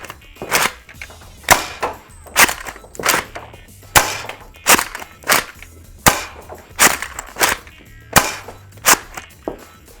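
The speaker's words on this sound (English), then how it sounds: "Then I'm gonna fire 4 Worker Gen 3 half-length darts, and then the rest are just gonna be bamboo darts." Nerf Spring Thunder shotgun firing half-length foam darts and bamboo darts, a series of sharp springy snaps and clacks in irregular rhythm, about a dozen shots close up with no talking.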